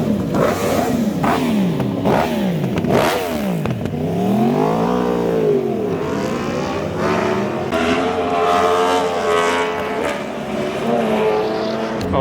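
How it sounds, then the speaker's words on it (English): Motorcycles rev and roll out from a car meet: loud, close engines snarl through repeated rising and falling revs, then settle into a sustained, wavering drone as the bikes pull away. "all the bikes are about to roll out right now?"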